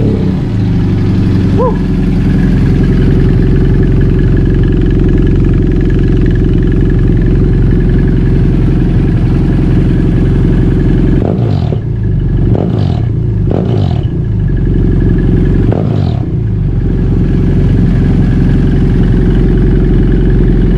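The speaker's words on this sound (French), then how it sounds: "j'ai changé mon pot pour un Léo Vincey" A BMW F800GS motorcycle fitted with a Leo Vince One EVO exhaust, DB killer removed, idles with a loud deep burble, then gives several sharp throttle blips and revs before settling back to idle.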